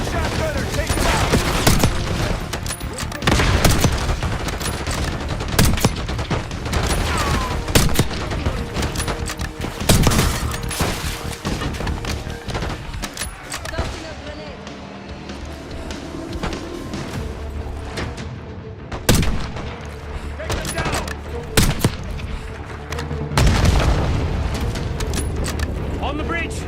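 Call of Duty Black Ops 6 combat fills the scene with dense rapid gunfire, heavy booming C4 blasts and crashing debris, loud and continuous, while voices shout over the chaos.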